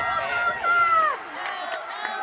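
A high school football crowd rumbles in the stands during a Brookwood versus Viroqua game, with scattered shouts and cheering voices rising and falling over a steady murmur, fairly close.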